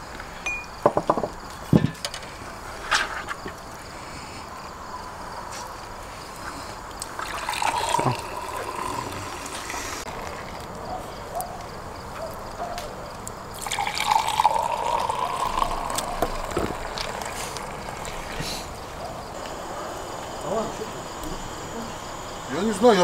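Liquid poured in a kitchen while khash, the traditional beef-trotter broth, is served, trickling and splashing in several bursts with occasional clinks of dishes, while people talk nearby.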